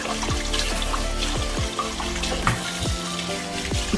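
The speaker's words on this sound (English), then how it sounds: "I'm just gonna go over it with some water and rinse them individually" Tap water runs and splashes steadily over whole fish being rinsed one by one in a kitchen sink, with irregular drips and splatters close by.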